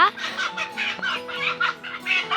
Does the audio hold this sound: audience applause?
no